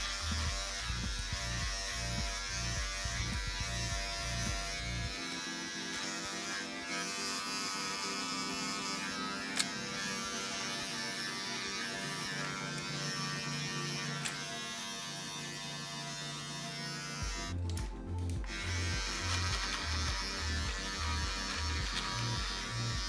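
An electric beard trimmer buzzes steadily as it trims sideburns, a close, continuous motor drone whose pitch shifts slightly as it presses against the hair, with a brief rough scratchy burst near the end.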